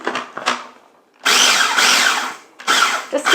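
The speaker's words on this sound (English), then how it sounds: "Just give it a quick whiz in the little food processor until it's about the same size as that cornmeal." Small food processor grinding panko breadcrumbs in short loud pulses, a whirring motor burst, then a longer whiz and a final quick pulse, close up.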